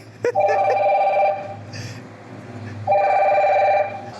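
A phone ringing in two bursts of a steady electronic tone separated by a pause, close and loud, with faint background noise between rings.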